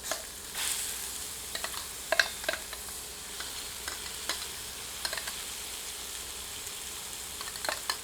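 Ground onion fries with masala over medium heat for a dry chicken dish, giving a steady soft sizzle broken by scattered spoon clicks and stirring scrapes, close and unvoiced.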